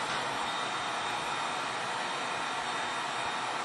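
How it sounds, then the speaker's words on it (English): A heat gun melting heat shrink tubing gives a steady, loud blowing hiss with an even airy roar, constant throughout and no talking. "melting that heat shrink with a heat gun"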